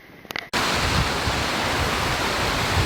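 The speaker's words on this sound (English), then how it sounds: "I hope you can hear me over the rush of the water." Rushing water of a mountain stream roars as a loud, steady broadband wash that starts abruptly after a brief quieter moment and continues unbroken.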